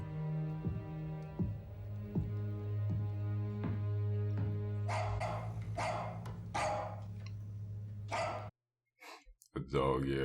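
A dog in the war drama series Band of Brothers gives a few sharp barks over a sustained low musical drone, and a voice breaks in midway before a brief silence near the end.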